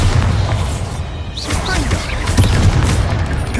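A Bombarda blasting spell goes off in the wizarding game Hogwarts Legacy, producing loud booming, crashing bursts with smashing debris amid dense combat noise, without talking.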